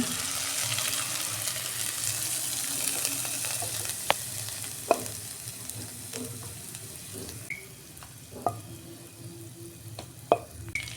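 Whole cloves, cardamom, cinnamon and cumin sizzle in hot oil for a Bengali chicken tikka curry, with a steady close crackle that softens slightly over time and is marked by a few sharp pops and clinks.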